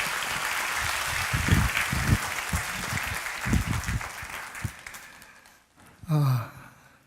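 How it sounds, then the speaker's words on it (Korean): A church congregation applauds warmly in irregular bursts of clapping that swell and then fade away over several seconds. A short vocal sound follows near the end. "여러분 다시 한번 뜨거운 박수"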